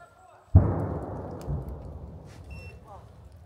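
A single loud explosion bursts out abruptly, a deep boom with a long rumbling decay that fades slowly, heard alone in a combat setting involving military vehicles along a road.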